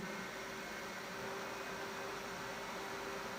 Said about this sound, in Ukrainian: пішли тести вентиляторів